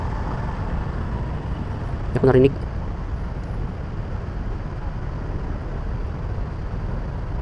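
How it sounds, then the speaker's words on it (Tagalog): Dense, steady traffic on the EDSA flyover in Manila, with cars and buses crawling bumper to bumper, a constant low roadway rumble throughout and a brief voice cutting in over it. "Ganyan ka-traffic ang EDSA mga idol."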